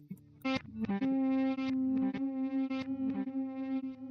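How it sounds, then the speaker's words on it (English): Distorted electric guitar playing sustained notes with a smeared, swelling reverse-delay effect from a DD8 pedal, tones fading in backwards and layering into a chorus-like wash. "That's my reverse delay on that DD8."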